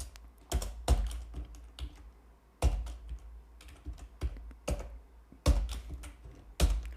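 Keys clack on a computer keyboard in short uneven clusters, close and crisp, with a few louder strikes standing out among the lighter taps and quiet gaps between the bursts.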